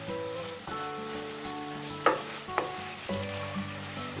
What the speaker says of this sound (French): Je mélange tout.